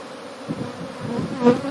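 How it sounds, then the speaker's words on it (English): Honey bees swarm and buzz around an open top bar hive, a steady dense hum that grows louder as bees pass near, with no talking. "You see, the bees are quite abundant in this colony."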